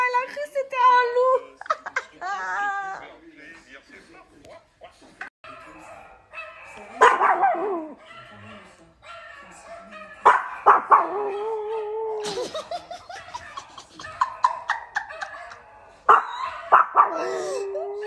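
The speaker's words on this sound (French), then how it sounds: "Des aboiements de chien" A dog at home barks and yips in several short, sharp bursts spread across the stretch, close and loud, interleaved with a child's giggles and chatter.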